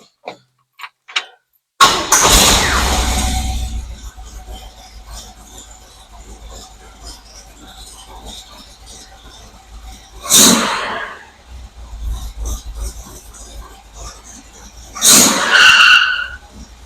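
A car engine cranks over and catches on a Chinese-made clone of an Edelbrock 1406 carburetor, idling steadily in neutral after a loud start, with two sharp revving bursts later on.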